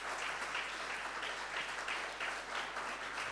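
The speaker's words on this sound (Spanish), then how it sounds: "Denle un fuerte aplauso al Señor." A church congregation applauds during a sermon, with dense, steady clapping that stays loud and continuous for the whole short stretch.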